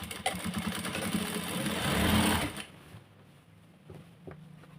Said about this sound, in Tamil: அப்படியே ஸ்டிச் பண்ணிகிட்டே வர வேண்டியதான்